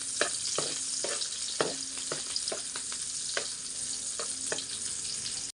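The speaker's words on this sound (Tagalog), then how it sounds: "Gisa-gisa, gisa sa sibuyas at ang ating ahos." Onion and garlic sizzle in a pan for pork caldereta, a continuous frying hiss broken by repeated sharp clicks and scrapes of a utensil stirring, with no voices.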